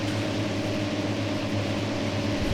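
Forage harvester chopper in Farming Simulator, working at Witcombe Park Farm: a steady, loud, continuous mechanical drone with a low engine hum and broad whirring noise, running evenly throughout with no talk.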